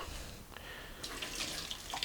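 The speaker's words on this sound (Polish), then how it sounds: "Wylejemy sobie z niego wodę" Water pours from a thermos used for cooking rice, a steady running splash close by that grows fuller about halfway through, with no talk.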